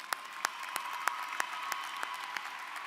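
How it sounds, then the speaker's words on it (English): A commencement audience gives a quiet, distant round of applause for student leaders, with a soft clapping wash and sharper claps at a steady rhythm. "let's stand up and give them a round of applause for being."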